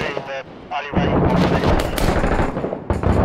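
Gunfire in Six Days in Fallujah, a shotgun among it, with a burst of dense, loud blasts packed over the middle seconds after a quieter lead-in, and voices audible underneath.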